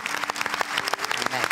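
Studio audience of an Italian television talk show applauding, a dense steady patter of many hands close and loud throughout the short burst.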